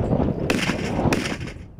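Grenade launcher fire at a military training range: two sharp, loud blasts about half a second apart, each followed by a short rumbling echo over a low background.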